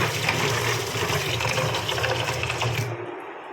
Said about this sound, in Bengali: এখন সোয়াবিনটা ভিজিয়ে নিই চলো যা গরম জল